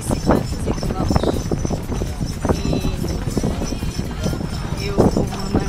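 Horses' hooves clip-clop steadily and close by on a car-free road on Gili island, with people talking over the rhythmic clopping.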